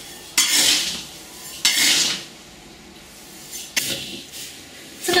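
Glutinous rice being stirred and tossed in a dry pan over low heat, with bursts of gritty scraping and rustling from the spatula, separated by quieter pauses, close by.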